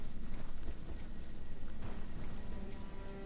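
Horse hooves clip-clopping rapidly in Elden Ring, a steady rhythmic galloping beat of thuds throughout, loud and close.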